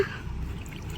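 Homemade organic liquid fertilizer poured slowly at the base of plants growing in small garden containers, onto soil that is already damp; a faint, steady trickle and drip that goes on without pause, with no voices.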